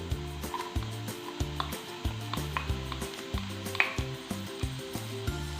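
Onion, cabbage and carrot sauté in a hot pan, giving a continuous soft sizzle punctuated by regular scraping stirs of a spoon, with gentle music playing in the background.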